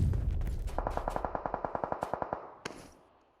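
Rapid automatic gunfire in a video game scrim, a steady burst of about twenty evenly spaced shots, loud and close, ending with one louder single report followed by a fading tail.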